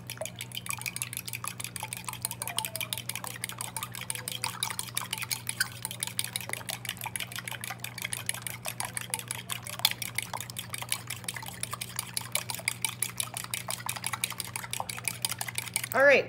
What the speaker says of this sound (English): now that I've fork whisked my eggs